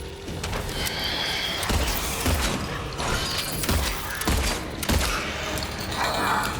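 Heavy gunshots ring out in the Silent Hill 2 remake, several sharp booming reports spaced roughly a second apart over a grinding, metallic ambient backdrop.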